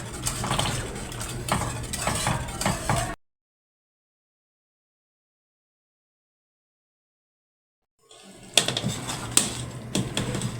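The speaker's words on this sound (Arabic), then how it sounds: "هنحط بقى ايه النشا مع الكريمه." Cornstarch and cream added to rice pudding and stirred in a pot: steady close scraping and clinking of a spoon against the pan, broken by a long stretch of silence before the stirring resumes.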